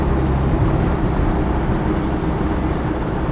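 A 2.5 litre turbo diesel Land Rover 90 hardtop drives along with a steady, continuous low engine drone and road rumble, loud and unbroken, with no talking.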